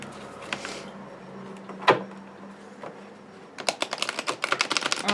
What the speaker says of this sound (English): Now I'm going to have to shuffle one more time for y'all.